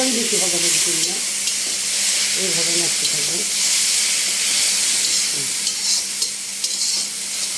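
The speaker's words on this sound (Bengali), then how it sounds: "এখানে আমরা এখন আদা রসুন জিরা পেস্টটা দিয়ে দিব" Ginger, garlic and cumin paste sizzles and fries in a hot pan while a utensil stirs it, a steady close hiss with scraping, and a voice talks over the first few seconds.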